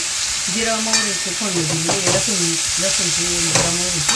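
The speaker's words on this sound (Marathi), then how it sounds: "लसूण जिरा मोहरीची फोडणी दिली" Garlic, cumin and mustard seeds sizzle steadily in hot oil for an onion chutney tempering, a continuous close hiss with stirring scrapes, overlaid by wavering tonal, voice-like sounds throughout.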